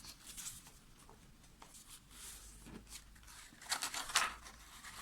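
Paper folds of a pop-up album creased by hand, giving soft, dry crinkles and scrapes near the mic, fainter at first, then a louder cluster of crisp presses toward the end, with no talking.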